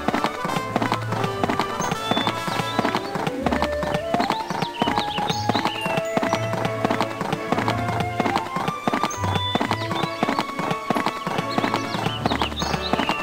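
Horse hooves clip-clop at a steady trotting rhythm in the Barbie Riding Club video game, set against continuous bright background music.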